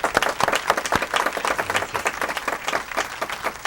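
Audience applause, a dense steady patter of many hands clapping for several seconds without pause.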